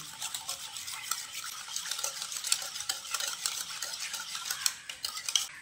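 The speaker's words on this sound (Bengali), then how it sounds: "এবার আমি একটা হ্যান্ড হুইস্কের সাহায্যে সব কিছু একসঙ্গে ভালো করে মিশিয়ে নিচ্ছি" Hand whisk beating milk, sugar and white oil together in a bowl for a palm-sugar cake: steady, rapid metallic scraping and clinking strokes continuing throughout, close and clear, with no speech.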